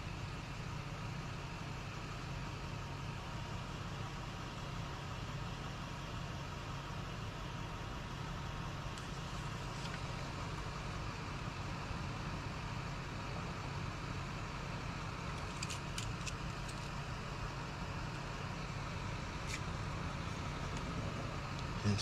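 A vehicle engine idles steadily throughout during an emergency start attempt, a continuous low rumble with a few faint high clicks and beeps partway through.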